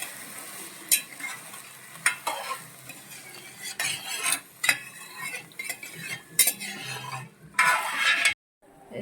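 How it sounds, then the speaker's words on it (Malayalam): A spoon scrapes and clinks around a pan of parippu payasam as salt is mixed in, with a steady rhythm of stirring strokes and a faint sizzle underneath, close and fairly loud. "ഉപ്പ് ചേർത്ത് നന്നായിട്ട് ഇളക്കണം"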